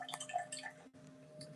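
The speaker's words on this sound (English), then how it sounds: "This is cold water pressure in the kitchen." Cold water runs from a kitchen faucet in a steady, close stream with a faint tonal hum, briefly breaking near the middle before resuming.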